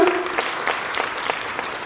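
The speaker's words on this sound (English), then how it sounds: "A loud round of applause for Neena." Loud audience applause at a dance recital, dense clapping from a crowd with a few sharper claps standing out, steady throughout.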